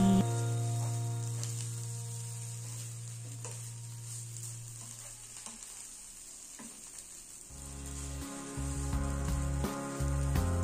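Fonio stir-fried with spring onions in a pan gives a soft continuous sizzle with occasional faint stirring scrapes, close by, under a loud steady low hum with no voices.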